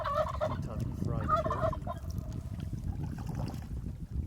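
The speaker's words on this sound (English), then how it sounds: "interested in these turkeys" Wild turkeys gobble near a canoe trip site in Utah, with a few loud, warbling gobble calls in the first couple of seconds and then a lower, rougher rumbling background.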